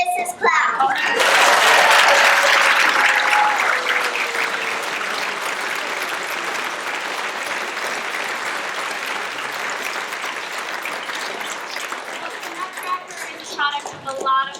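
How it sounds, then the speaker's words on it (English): A school audience at a Nutcracker performance claps in a loud, sustained burst that swells early and gradually tapers, with children's voices chattering faintly underneath near the end. "Let's give a round of applause for Mrs."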